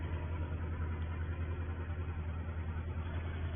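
A 1950s tractor engine runs steadily in a low, continuous rumble with a strong low-frequency hum, close and fairly loud throughout, with no talk.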